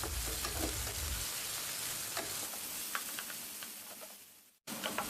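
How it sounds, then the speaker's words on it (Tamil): Chicken pieces sizzle and fry in a hot pan with no water added while being stirred and chopped at with a spatula, giving a continuous close crackling hiss broken by scraping strokes, then cutting out briefly before resuming. "இதே போல் கொத்தி விட்டுக்கிட்டே வதக்கணும்."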